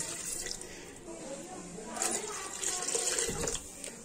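Water pours steadily into a cooking pot of chicken yakhni for biryani, about 1.5 liters, a continuous close splashing rush that swells louder midway before easing.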